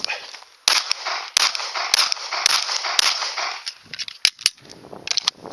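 Handgun shots fired during a shooting drill, about eight sharp loud cracks spaced irregularly, each with a short echo, followed by quieter clinks and handling noise, no talking.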